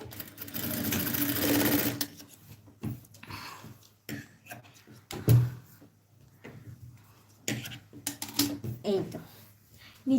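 A sewing machine stitches a seam in fabric in a loud, continuous burst for about two seconds, then falls silent apart from scattered clicks, handling knocks and short bursts of talk.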